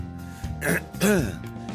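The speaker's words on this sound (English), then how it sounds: "Still got a little lingering cough there" A man on a live talk show gives a short throat clear and a husky cough from a lingering cough, two close bursts under a second apart, with faint background hum and no words.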